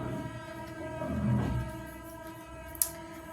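A train horn sounds from a distance over steady low rumble and hum, rising into a broad swell around the middle before fading, followed by a brief sharp click near the end.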